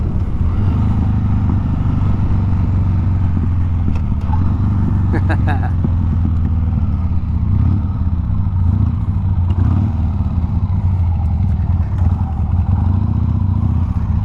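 A 1999 Harley-Davidson Sportster 883 runs steadily with a loud, low rumbling engine tone throughout, some clattering mechanical ticks in the middle, while a rider talks over it.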